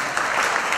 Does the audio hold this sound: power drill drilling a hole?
no